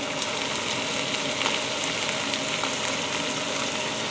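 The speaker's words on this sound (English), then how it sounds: "lower the heat to a simmer before adding the honey and balsamic vinegar" Onions with garlic simmer in a pan with honey and balsamic vinegar, producing a constant, even sizzle and crackle that carries on throughout without any talk.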